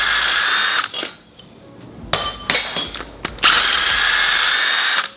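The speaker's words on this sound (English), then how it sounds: "all the head bolts are broken loose, we can go ahead and just zap them out" Power tool zipping cylinder head bolts out of a Subaru EJ20/EJ25 WRX/STI engine, loud close bursts of whirring and ratcheting with a short pause and clanks between them.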